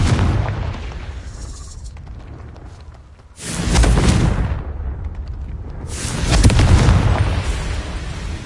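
Confringo blasting curse in a Harry Potter video game, heavy booming explosions, two big rumbling blasts in close succession after a fading earlier one, loud and near.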